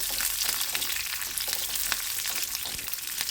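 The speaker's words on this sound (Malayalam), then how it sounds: "അത് ആ എണ്ണയിൽ കിടന്ന് നന്നായിട്ടൊന്ന് വാടി കിട്ടണം" Slit green chillies fry in hot oil with a continuous soft crackling sizzle, steady and fairly quiet, with faint scattered pops and no voices.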